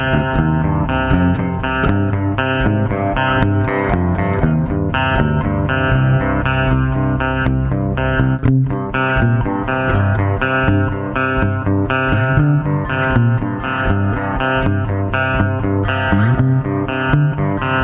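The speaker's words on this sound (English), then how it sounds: "I'm using a really high distortion for the sound." Dense, heavily distorted electric guitar chugging steadily and loudly throughout, playing a riff, with thick saturated chords and no voices.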